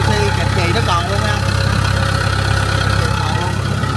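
A Kubota DC70 combine harvester's engine runs at a steady idle, a loud continuous low rumble with mechanical vibration, heard close up throughout.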